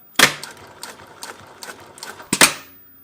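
A Juki LU-2810-7 walking-foot industrial sewing machine back tacks in short runs, giving close, rapid mechanical clatter with sharp louder thumps at the start and near the end, and no talking.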